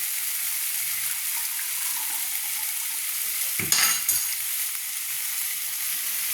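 Water poured into a pan of fried prawns, a short gush and burst of bubbling over a steady loud frying hiss that continues on its own.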